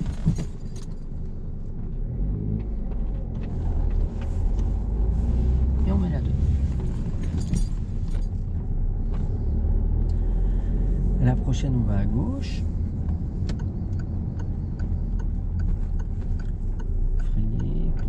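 Car interior during a driving lesson, with a steady engine rumble and road noise beneath an instructor and learner talking, plus occasional clicks and rattles in the cabin as the car pulls away and drives on.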